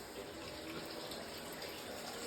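Water pours and trickles steadily as washed raccoon hides, soaked about half an hour in a neutralizing bath, are squeezed out; a continuous close splashing runoff with no talk.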